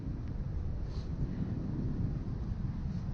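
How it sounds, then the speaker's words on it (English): Steady wind buffets the microphone at a high, freezing spot around -10°C, a constant low rumbling roar with no voices, fairly quiet and unbroken. "It's so windy."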